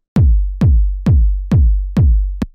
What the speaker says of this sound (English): It's a bit more like a trance kick